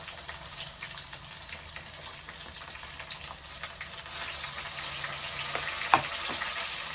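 A quarter kilo of sambar onions (shallots) sautéing in a pan, a soft steady sizzle that grows louder partway through, with a few light clicks of the spatula and no talk.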